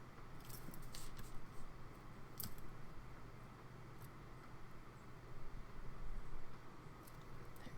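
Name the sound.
trimming excess paper for junk journal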